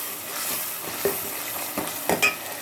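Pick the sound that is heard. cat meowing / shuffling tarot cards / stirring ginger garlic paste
stirring ginger garlic paste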